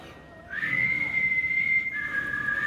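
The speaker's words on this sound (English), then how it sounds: "He's doing the whistle." Person whistling one long sustained note at a Comic-Con panel for The Walking Dead, loud and clear over faint room noise, dipping to a lower pitch near the end.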